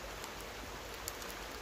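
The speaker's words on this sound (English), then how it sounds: "It's starting to rain now." Rain starting to fall outdoors during a slingshot hunting outing, a faint, even patter of drops with steady broadband hiss and no voices.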